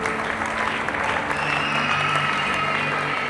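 A church congregation applauding, with steady, dense clapping from many hands filling the room evenly at a moderate level throughout.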